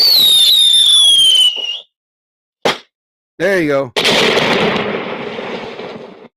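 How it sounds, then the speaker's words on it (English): Fireworks sound effect played during a live show: a rising whistle followed by a sharp bang, a crackling burst, then a long fizzling crackle that fades, with someone speaking briefly over the start. "She gets the big celebration. Like she gets the fireworks."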